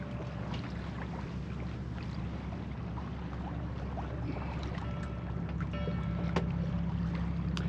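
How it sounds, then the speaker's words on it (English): Sailboat under way off Mount Desert Island, Maine, with a steady wash of water and wind around the hull, soft and continuous with faint creaks and no voices. "we're going to sail out past the end of Sutton and then tack around out there"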